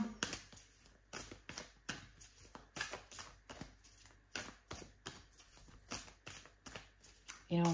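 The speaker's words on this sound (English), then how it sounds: "So let's put some cards on the table." Tarot cards shuffled repeatedly in quick, irregular riffling bursts, close and crisp, running continuously with brief pauses between shuffles.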